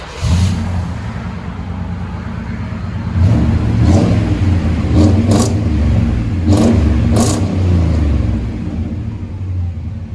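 GMC Sierra 1500 pickup with a V8 and Magnaflow dual exhaust, idling with a deep close rumble and blipped through several sharp revs that rise and fall, no voices over it.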